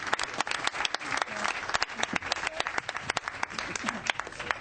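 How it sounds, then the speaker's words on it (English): Audience applause at a board meeting, a dense run of many hands clapping together, steady and close throughout. "Can we go ahead and clap for Mr. Lum?"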